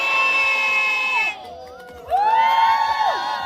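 An outdoor crowd at an obesity-awareness walking event in Yangjaecheon park shouts a cheer in unison. The chant comes in two loud bursts with a brief dip between them, and it is thick with overlapping voices.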